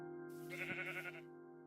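A single sheep bleat from the game Minecraft, a short wavering baa lasting about a second, fairly faint, heard alone over a quiet steady game tone.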